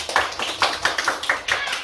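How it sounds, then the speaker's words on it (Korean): Children clap in short bursts during a lively kindergarten physical education class for six-year-olds. A few sharp clusters of claps repeat roughly every quarter second, fairly close and moderately loud, with no talking over them. "박수 좀 쳐주세요."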